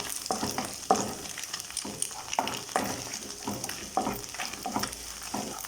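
Thinly sliced garlic fries in a pan for fried rice, a steady crackling sizzle broken by repeated stirring scrapes at a brisk, uneven rhythm, close and fairly loud with no voices.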